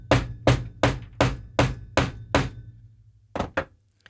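A hammer strikes a grommet being set into a crochet mini wallet. There are seven evenly spaced, firm knocks, then a short pause and two more quick blows, close and clear with no talk.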